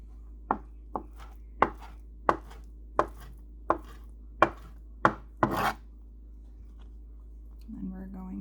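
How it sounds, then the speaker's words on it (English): Knife chopping jalapenos into tiny pieces on a cutting board, about ten crisp, evenly spaced taps in close succession, then quiet before a faint clatter at the end. "I'm going to do the same thing with the jalapenos. Cut them in little strips, and just cut them in tiny little pieces."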